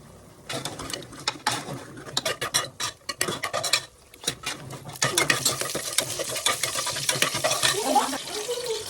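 Onions for ghee rice tossed into a hot pan and stirred, giving a close, busy run of scraping and clattering utensil strokes with a building sizzle, joined by fuller frying noise in the second half.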